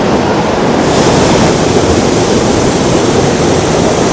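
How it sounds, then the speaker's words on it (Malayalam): A small waterfall on a shallow river in Wales gives off a loud, close, continuous rushing roar with no break or change in level. "ഈ വെള്ളച്ചാട്ടത്തിന് സൗണ്ടും"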